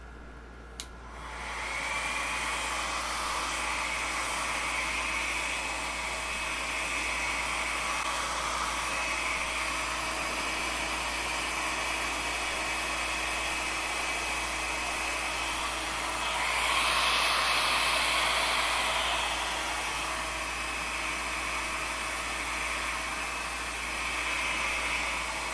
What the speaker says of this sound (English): I'm just going to hit them with my blow dryer